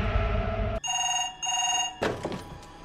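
A telephone ringing in a film scene, a bright electronic trill that starts abruptly, holds, then gives way to a brief clatter, fairly loud and close, with no voices.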